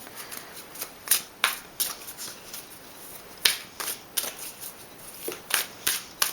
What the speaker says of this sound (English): I'm going to go ahead and pull an energy oracle card here